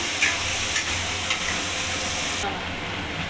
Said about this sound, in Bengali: এবার ভালো করে নাড়িয়ে নেব